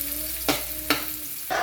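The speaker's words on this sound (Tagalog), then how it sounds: "Hanggang sa maluto yung sibuyas bago natin ilagay yung mga lamang loob." Onions frying in a pan for dinuguan give a steady sizzle, broken by three sharp spatula scrapes or knocks roughly every half second, close by with no talk.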